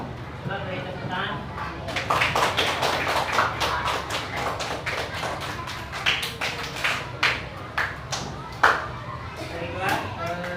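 A primary school maths class claps together, a burst of rapid, uneven hand claps from many children that starts strong and then thins into scattered claps, with talking going on throughout.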